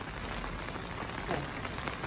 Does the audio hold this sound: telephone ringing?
no